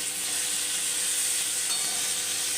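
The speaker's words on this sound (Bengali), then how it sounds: "আলুটা ভালো করে মশলাটাতে দিয়ে ভালো করে ভেজে নিলাম" Boiled potatoes fry in a spiced tomato masala, a steady, even hiss of sizzling with no distinct stirring strokes.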